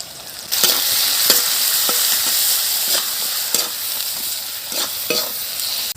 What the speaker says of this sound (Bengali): আদা রসুন বাটা দিয়ে 1 মিনিট নেড়ে দিচ্ছি